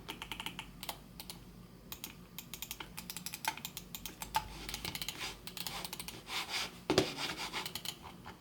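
A HATOR Pulsar 3 Pro Wireless gaming mouse with HATOR optical switches clicks close up, giving rapid, irregular bursts of crisp, dry clicks that run through the whole stretch with brief pauses between.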